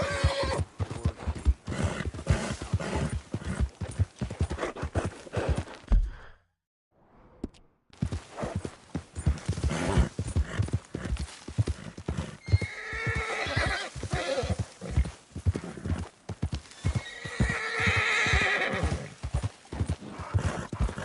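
Horse in Red Dead Redemption 2 clops its hooves in a rapid steady rhythm, loud and close, and whinnies and snorts in shrill bursts later on; one brief silent gap interrupts the hoofbeats.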